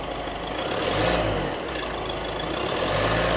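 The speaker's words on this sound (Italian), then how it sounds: "Accelera un po'." Car engine held at raised revs while an alternator charges a battery, a steady mid-pitched drone that swells slightly, loud and close with no talk.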